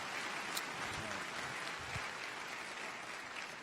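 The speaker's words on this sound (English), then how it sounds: "Please clap it up for them." A church congregation claps for a bishop and his wife at a celebration of life, a continuous moderate patter of many hands, fairly distant and even, with a couple of brief low thumps partway through.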